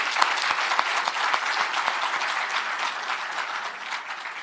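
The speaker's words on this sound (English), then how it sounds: "Please, applause." An audience applauds Professor Dan Shechtman at a ceremony, with dense, steady clapping from a large crowd that stays even throughout.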